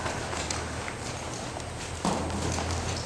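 A horse that was wild a week ago is being saddled, its hooves thudding and scuffing on the ground in a loose, uneven rhythm, close and moderately loud, with a heavier thump near the end.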